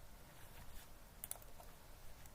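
Typing on a computer keyboard during setup of a Kali Linux virtual machine in VirtualBox, heard as quiet, scattered key clicks over faint background noise, with a couple of sharper taps near the middle.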